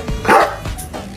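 A dog lets out a couple of short, sharp barks close by, the second one weaker, with a brief whimpering yip between them.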